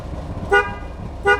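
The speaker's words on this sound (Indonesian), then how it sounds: "gue mau sombong nih, suara klaksonnya" Horn of a 1983 Suzuki Carry ST20 sounding in two short, loud honks about three-quarters of a second apart, close by, over a low idling background.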